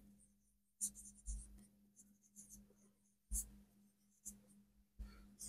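Marker or pen strokes writing a math solution on a board during a Bengali classroom lesson, with scattered short scratchy strokes and taps, fairly quiet, between pauses and no talk.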